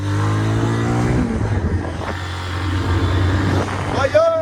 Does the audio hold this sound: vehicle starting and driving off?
yes